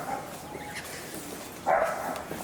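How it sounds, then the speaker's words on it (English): Two dogs barking somewhat far off near a railway footbridge between Seddon and Yarraville stations, with faint yips heard through steady outdoor background noise; no one speaks. "Those are just 2 dogs."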